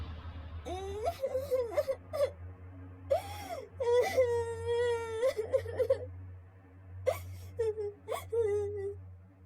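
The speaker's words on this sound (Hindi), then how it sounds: "वहाँ उसने देखा कि एक 4-5 साल का बच्चा रो रहा था" A four- or five-year-old child wails and whimpers in repeated drawn-out sobs with short pauses, crying loudly and close in a story scene about a hungry orphan.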